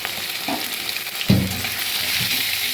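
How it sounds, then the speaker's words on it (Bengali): Mutton pieces frying in oil with onions for a korma make a loud, continuous sizzle, with a few soft knocks and scrapes of stirring in the pan, heard up close with no talking. "মাটনগুলো একটু এই তেলের সাথে, পেঁয়াজের সাথে একটু ভেজে নেব।"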